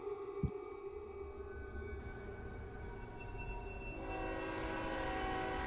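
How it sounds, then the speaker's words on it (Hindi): A train pulls away from a station with a steady rumbling drone and a sustained horn-like tone. The sound swells slightly louder partway through, and no voices are heard. "ये ट्रेन पटरी से जाने वाली है।"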